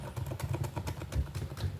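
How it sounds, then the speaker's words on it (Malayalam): Quick, light knife taps on a cutting board in an irregular rhythm, close by and faint, as onions are chopped. "മകനാണ് ഉള്ളി അരിഞ്ഞുകൊണ്ടിരിക്കുകയാണ്"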